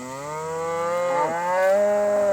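Cattle moo in one long, loud, drawn-out call that rises and wavers, close by with no other sound over it.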